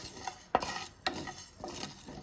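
Spices for prawn biryani being stir-fried in a pan, a utensil scraping and knocking against the metal in a few distinct strokes over a faint sizzle, close and with no voices.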